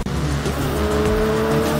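A motorcycle engine in the video game Fortnite revs with a loud, steady, buzzing drone that rises and shifts slightly in pitch, heard on its own without talk.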